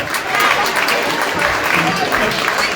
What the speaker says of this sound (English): a round of applause for the cast of The Wind That Shakes the Barley